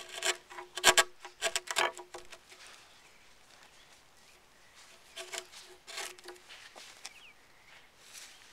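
A steel chisel pares and scrapes into a wooden workpiece in short, dry, rasping strokes. The strokes come in clustered bursts early on, pause, and then return in a sparser run. They sound close, with no talk.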